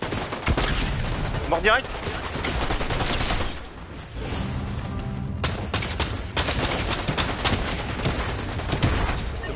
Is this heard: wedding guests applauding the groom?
no